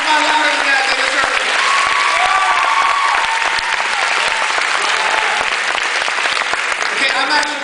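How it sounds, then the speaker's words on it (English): An audience at a school prom assembly hypnosis show breaks into loud, sustained applause filling the whole stretch, with scattered cheers and voices mixed into the clapping. "Almost ready to receive one last thunderous round of applause."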